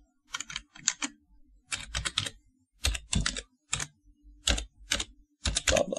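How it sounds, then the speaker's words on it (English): Bursts of typing on a computer keyboard as an email address is entered, clattering keystrokes in quick clusters separated by short pauses, close and clear with no talking. "We type in an address."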